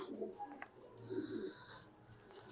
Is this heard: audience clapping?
no